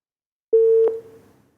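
A single steady telephone busy tone sounds after a caller's line drops, one clear beep of about half a second that fades out, heard alone on a quiet line.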